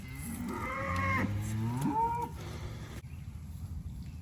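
A cow moos twice on a farm, both long and close, the second moo rising in pitch, followed by quiet outdoor background.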